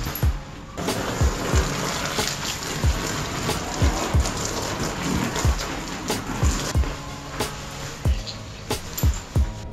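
Strong water spray hitting a camping tent to wash off mud, heard as a steady hissing splash, loud and close, with repeated low thuds throughout.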